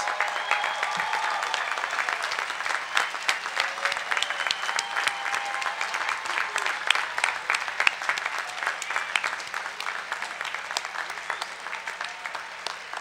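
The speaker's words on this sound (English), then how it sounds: "We salute them and ask them to stand for a well-deserved round of applause" Sustained applause for engineering and computer science graduates at a university commencement ceremony, a steady dense clapping from a large audience lasting throughout without talk.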